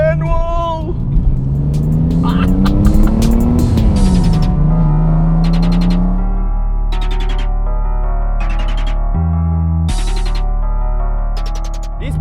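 A manual fourth-generation A80 Toyota Supra, kept mostly stock with an aftermarket exhaust, rumbles loudly from close range as its engine note rises and falls through revs and gear changes, with a steady drone underneath.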